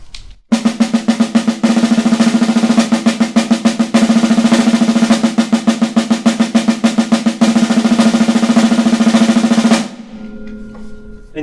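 A drummer plays a fast single-stroke exercise, an even rapid stream of strokes, loud and close, running for about nine seconds before stopping abruptly.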